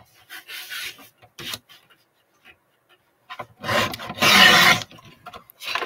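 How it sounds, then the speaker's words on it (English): Paper strips for a leather journal being trimmed by hand, heard as a few short dry rasping bursts near the start, then a louder, sustained scraping stretch toward the end, close and with no talking. "so let's trim off the strips"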